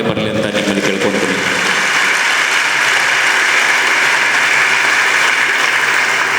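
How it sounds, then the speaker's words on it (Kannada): An audience at a school event clapping for seated ex-servicemen, a dense, loud, sustained round of applause that fills the room with a steady roar. "ಇಲ್ಲಿ ಕುಂತಂಥವರಿಗೆ, ಮಾಜಿ ಸೈನಿಕರಿಗೆ ಅವ್ರಿಗೆ ಒಂದು ಸಲ ಚಪ್ಪಾಳೆ ಬರಲಿ ಅಂತ ನಿಮ್ಮಲ್ಲಿ ಕೇಳ್ಕೊಳ್ತೀನಿ."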